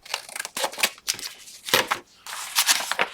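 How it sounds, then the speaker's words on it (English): Scissors snip through the white edge of a paper sheet for a junk journal, with four or five crisp, close cuts separated by short pauses. "I'm just going to cut this edge off because it's white."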